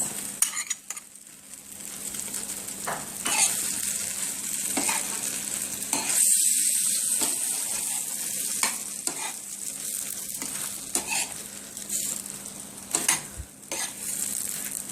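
Mixed vegetables and chicken luncheon meat stir-fry in a pan, a constant close sizzle broken by periodic scraping and clinks of a utensil against the pan.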